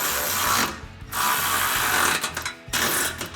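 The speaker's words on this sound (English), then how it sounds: "we can grab our ratchet and 13mm socket" A ratchet with a 13mm socket tightens step bar bolts on a 2024-2025 Toyota Tacoma: rapid close clicking in three bursts separated by short pauses, loud and alone.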